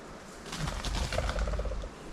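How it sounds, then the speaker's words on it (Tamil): A pigeon coos a few soft, rounded notes in a forest near the Megam waterfall, over a steady hiss of wind or water, with no one talking. "புறா"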